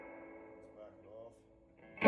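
An Epiphone Les Paul played through a Dolsey amp with the presence turned down rings out in a mellow, sustained chord that slowly fades, followed by a sharp fresh strum at the very end.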